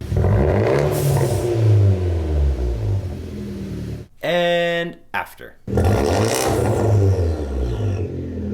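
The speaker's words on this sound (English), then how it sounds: "It sounds like a half-assed rally car." A turbocharged Abarth 124 engine with a 3-inch downpipe revs hard with a raspy, rumbling exhaust, dropping briefly to a sharp burst of rising tones before the rough revving returns, close by.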